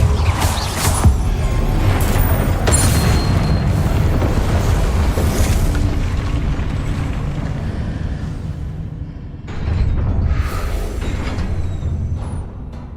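Heavy, booming magical blasts go off in close succession as Confringo and Incendio spells explode in Hogwarts Legacy, with crashes and rumbles piling up. A short lull comes before another loud burst near the end.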